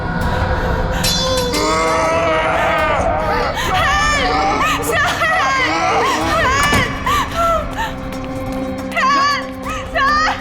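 A woman screams loudly and repeatedly in a tense Hindi crime drama scene, with strained, wavering cries mixed with other voices and commotion.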